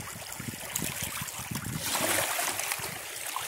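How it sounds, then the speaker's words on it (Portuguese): Wind-driven waves lap against the shore of the São Francisco river, a steady close wash of water with soft rhythmic slaps under a constant wind rush. "E pelo vento ele tá dando onda, dá onda."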